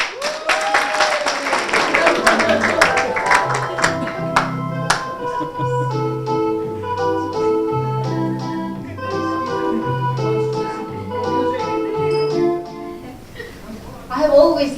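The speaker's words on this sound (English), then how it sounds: "So I'd like all of you to give a round of applause to Gigi Zabla" A conference audience at an SME World Summit session on women entrepreneurs gives a round of applause, loudest at the start and then blending into music that carries on steadily.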